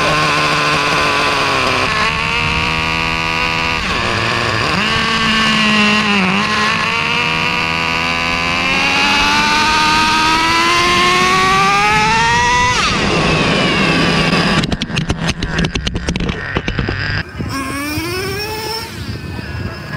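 A Traxxas Revo 3.3 nitro RC truck drives at an RC track, its small two-stroke engine buzzing loudly and continuously, rising and falling in pitch as it accelerates and backs off, with choppy bursts near the end.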